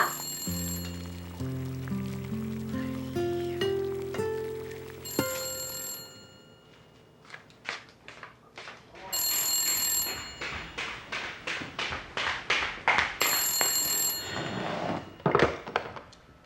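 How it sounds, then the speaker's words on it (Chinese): Telephone ringing in a home, a repeated electronic ring in bursts, with clattering and other household sounds between rings, loud and close, no talk. "金华接电话。"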